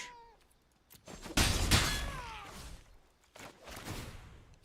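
A cat meows in the Magic: The Gathering Arena card game, a few clear close meows with rising and falling pitch, separated by soft thuds and swishes from the game.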